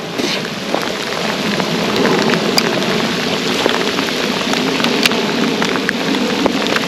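A thunderstorm pours heavy, loud rain steadily onto the surroundings on a steep wet trail, with scattered sharp drips over the continuous downpour.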